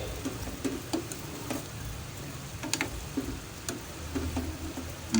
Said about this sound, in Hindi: गोश्त जो है वो बहुत अच्छे तरीके से भुन रहा है।